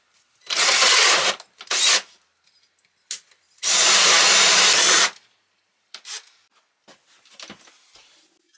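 A power drill bores holes into wood in a few loud, close bursts of about a second each, separated by quiet pauses, with faint handling clatter and scraping between them.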